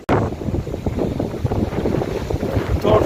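Strong sea wind at Digha beach buffets the microphone in rough, gusty bursts that swell again toward the end, with no talk.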